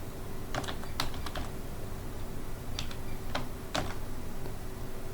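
Someone types on a computer keyboard to enter a program into a new file, with short sparse bursts of key clicks at a moderate, uneven pace over a steady low hum, no talking.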